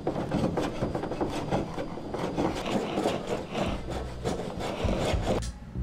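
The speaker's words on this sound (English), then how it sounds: "Then we sanded. And sanded. And sanded." Sanding the inside of a wooden outrigger sailing canoe hull: a close, steady rasping scrub with rapid back-and-forth strokes runs almost the whole time and then cuts off abruptly near the end, with no talk.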